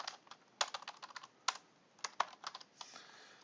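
Quick typing on a computer keyboard as a username is entered into a login form, a close, quiet run of irregular clicks in short bursts with brief pauses and no talking.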